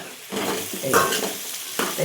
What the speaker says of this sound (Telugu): నేనైతే ఇగో దొండకాయ ఫ్రై చేస్తున్నా.